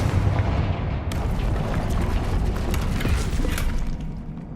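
The Confringo fire spell explodes in the Hogwarts Legacy video game, a loud, booming blast followed by a rumbling, crackling wash of debris that fades out over a few seconds.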